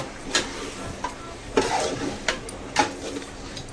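Spoon stirring chicken biryani mixture with rock salt and turmeric in a pan, a few soft scraping sweeps at a steady pace over a faint sizzling background, close by with no voices.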